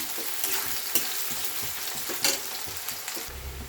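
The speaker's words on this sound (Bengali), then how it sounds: "পেঁয়াজটা দিয়ে নিয়েছি পুরো তেলের ওপরে, দিয়ে নাড়িয়ে নিলাম" Chopped onions frying in hot oil, a steady sizzle with scraping stir strokes and occasional clinks of a utensil against the pan, close by with no talking.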